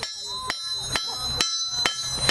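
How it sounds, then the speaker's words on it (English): Heavy hammer blows ring out on hot metal at a forge as a beginner smith shapes a Viking-style point, five sharp metallic strikes spaced roughly half a second apart with bright ringing overtones. "That's what you're gonna do with the big hammer."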